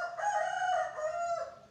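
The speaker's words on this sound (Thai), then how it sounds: "เสียงไก่" A rooster gives one loud, close crow, a drawn-out cock-a-doodle-doo that rises, holds, then falls away within about two seconds.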